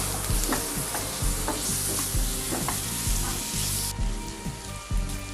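Tomatoes are stirred into a frying pan mixture, with a continuous loud sizzle broken by repeated scraping and clattering spoon strokes in a steady rhythm, heard close up with no talking.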